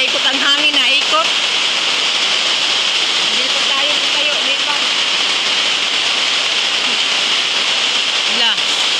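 Heavy rain pours during an approaching typhoon, a loud, unbroken roar of water like a downpour on a roof, with people talking over it now and then.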